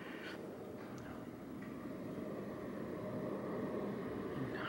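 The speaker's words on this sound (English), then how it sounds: "I can definitely hear the planes coming over." A low, steady roar of a distant airplane passing overhead above low cloud, muffled and continuous, with faint ambient noise and no voices.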